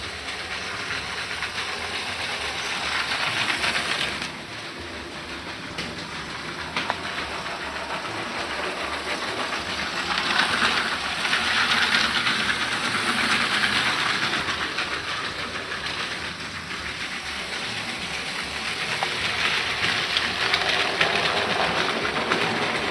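LEGO Creator 2016 Winter Holiday Train 10254 running on its plastic track, a steady motor whir with light rhythmic clicking of wheels over track joints, continuous and close throughout.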